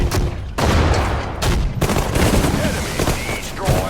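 Heavy gunfire erupts in a World War II battle at Guadalcanal in Sudden Strike 4 as units fire on a target, loud bursts and rattling volleys with sharp booms crowding one another.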